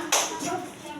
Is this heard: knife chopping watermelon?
no